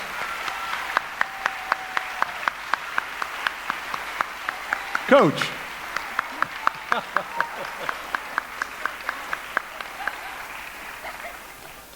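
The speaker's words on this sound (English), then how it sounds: "Can we give these guys a big round of applause?" Audience at a magnet school fifth grade graduation applauds the teachers and staff, with clapping running throughout, a brief loud burst partway through, and a voice speaking over it.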